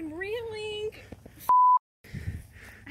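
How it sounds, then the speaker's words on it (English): A single sharp censor bleep, a pure steady tone lasting about a quarter second, cuts over a woman's speech during a bank fishing trip for catfish, followed by a moment of silence and then more talking. "I'm going to have to beep all that out"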